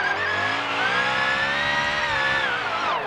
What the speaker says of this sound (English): Let's try it down here with a little bit of a speed drift.